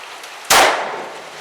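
A single sharp shot from an NAA Ranger revolver, one loud close crack after a quiet moment, followed by a brief fading ring and echo.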